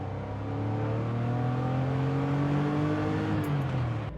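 A Porsche 911 with a 3.2 liter engine revs while accelerating, its steady, rising engine drone heard close and continuous, with no talking.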